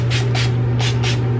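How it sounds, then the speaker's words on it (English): Aphogee Keratin Green Tea Reconstructurizer sprayed onto hair from a pump bottle gives four short hissing spritzes in an uneven rhythm, close and fairly loud, over a steady low hum. "I'm gonna spray my Aphogee Keratin Green Tea Reconstructurizer just on the leave out."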